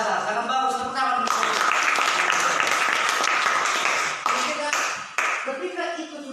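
Dense, sustained applause from a crowd fills the whole stretch, loud and continuous, with a voice faintly audible underneath.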